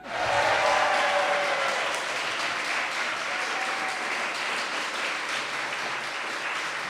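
A comedy show audience at Krackup Lab applauds and cheers the night's winner, a loud sustained wash of clapping with whoops that stays full and even from start to finish.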